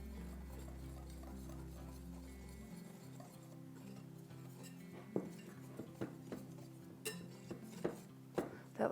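Baking powder, salt and flour whisked in a bowl for cornbread, a series of light scraping taps against the bowl in an irregular rhythm that grow sharper toward the end, faint and close, with a low hum early on.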